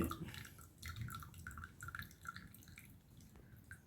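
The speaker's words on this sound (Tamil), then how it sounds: "ஒரு கிளாஸில் நம்ம ஃபில்டரை வச்சு ஃபில்ட்ரு பண்ணிக்கலாம்" Papaya leaf juice is strained through a filter into a glass, making a soft, uneven trickle and patter of drips that sounds close and fairly quiet.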